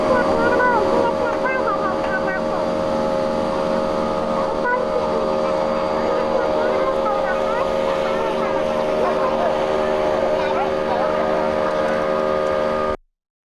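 Race cars practicing at Poughkeepsie Raceway, a loud sustained engine drone that holds steady and near for the whole stretch, warbling slightly, then cutting off abruptly at the end, with voices underneath.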